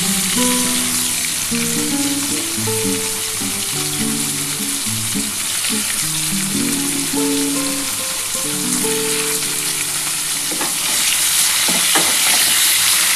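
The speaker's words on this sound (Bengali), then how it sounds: "ভালো করে পেঁয়াজটা দিয়ে ভালো করে ভাজা ভাজা করতে হবে" Chopped onions frying in oil in a pan, a steady close sizzle with scattered stirring clatter and spatula scrapes throughout, no talking.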